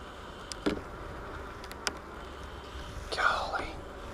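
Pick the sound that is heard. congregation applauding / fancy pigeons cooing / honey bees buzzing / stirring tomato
honey bees buzzing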